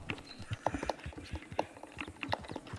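Horse hooves galloping in the video game Red Dead: quick, faint clip-clop beats in an uneven running rhythm, fairly quiet throughout.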